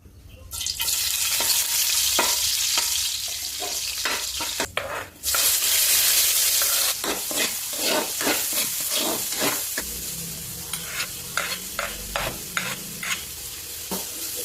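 An egg fries in hot olive oil, a loud continuous sizzle with scraping stirs and utensil taps close by, the hiss easing and turning more crackly toward the end.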